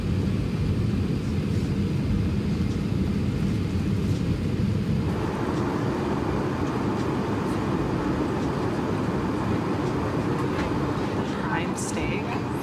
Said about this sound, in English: We are officially taking off for Dubai, and you can barely feel this plane move.